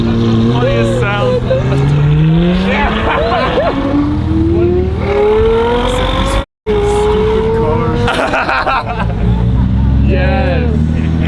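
A Porsche 997 sports car passes close by during Monterey Car Week, its loud engine note rising and falling in a long sweep, while people talk over it and comment.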